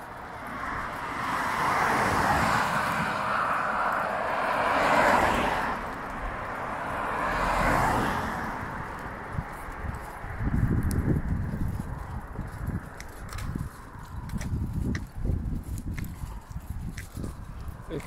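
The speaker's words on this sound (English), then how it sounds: "there's quite a few cars whizzing around still" Cars whizz past on a road at night during a walk. Each one is a soft, distant rushing swell that rises and fades, and closer footsteps and rustling follow.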